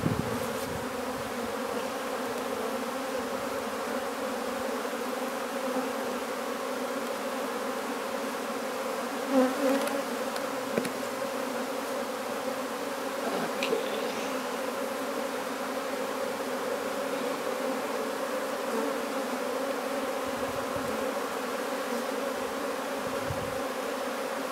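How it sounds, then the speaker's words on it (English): Honeybees packed into a small nuc box buzz in a dense, continuous drone throughout, close and steady, with occasional light knocks and shuffles. "There's a lot of bees in this tiny little box."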